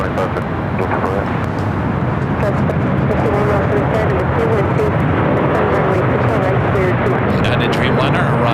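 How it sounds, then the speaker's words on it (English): Jet airliner of SAS taking off from runway 25 right on the south side of LAX, a steady broadband engine roar filling the whole clip with no clear pauses, loud and continuous, with voices talking over it. "I do have SAS taking off on the south side on 25 right."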